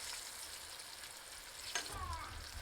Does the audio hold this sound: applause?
no